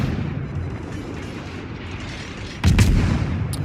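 Ship guns fire in World of Warships aboard the destroyer Kidd, with a rumbling low backdrop and then a sudden heavy boom near the end followed by a second sharp blast.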